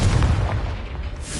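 Confringo fire spell blast in Hogwarts Legacy: one loud, deep boom that rolls out into a rumbling decay over about a second.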